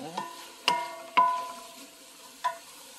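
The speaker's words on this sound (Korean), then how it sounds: "그러면 이렇게 볶으면 무에도 소고기의 맛이 들어갑니다." Beef and radish are stir-fried in a pot, heard as a few sharp metallic clacks of a utensil against the pot that ring briefly, sparse and close over a quiet background.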